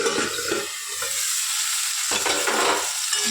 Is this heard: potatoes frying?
yes